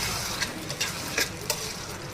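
Mutton keema stirred in plenty of oil in a pan, a steady frying sizzle with a few soft scrapes of the spoon at irregular intervals, close and moderately loud, no voices.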